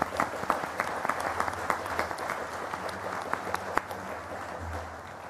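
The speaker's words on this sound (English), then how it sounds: "a big round of applause for them" An audience at an annual meeting claps in sustained applause, many hands close together in a dense, even patter that slowly thins toward the end.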